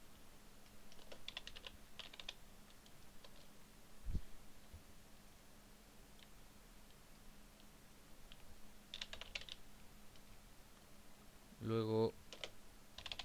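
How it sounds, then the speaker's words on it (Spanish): Keystrokes on a computer keyboard as Linux commands are entered on a BeagleBone Black, short bursts of quiet clicking around a low steady hum, with someone speaking Spanish briefly. "Para ello escribimos los comandos pertinentes."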